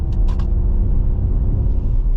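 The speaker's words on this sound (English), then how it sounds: "And then you got that fake engine noise" Artificial engine sound from a 2023 Ford Mustang Mach-E Select AWD electric car: a steady low droning rumble heard from inside the cabin, loud and continuous, with a couple of faint clicks near the start.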